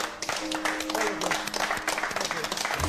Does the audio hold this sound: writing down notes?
no